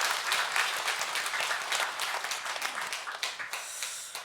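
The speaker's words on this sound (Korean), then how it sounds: "영광의 박수 올려드리겠습니다." A church congregation clapping during a Sunday morning service, a full burst of dense applause that swells and then tapers off over a few seconds.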